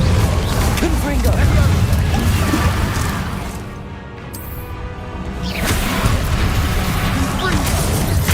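A loud, close explosion from the Confringo spell in a Harry Potter video game, with crashing debris and rumble that briefly drop away mid-clip before the blast noise returns, set among other combat sounds.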